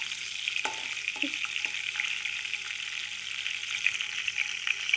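Dried prawn curry cooking in a pan, a steady bright hiss of frying with a few quick stirs and scrapes near the start and no voices.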